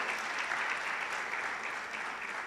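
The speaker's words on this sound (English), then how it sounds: "A round of applause for him." Steady, dense clapping from a sizeable crowd at a symposium, continuing evenly throughout without voices standing out.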